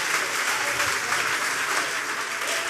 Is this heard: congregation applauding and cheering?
yes